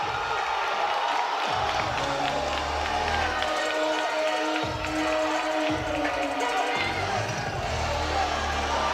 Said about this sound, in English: Standing room only in the crowd. Everybody is on their feet.